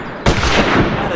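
A single sharp hunting rifle shot in Hunting Unlimited 2010, a loud close crack followed by a booming echoing tail.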